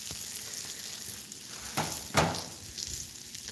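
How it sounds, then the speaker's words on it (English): Chicken sandwich frying on a Blackstone griddle, a steady close sizzle with brief louder crackling bursts, no talk. "And we're frying on the Blackstone."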